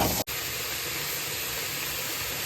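Onion and tomato frying in oil in a pan for a paneer gravy, a steady close sizzling hiss that continues evenly after a brief dip at the start.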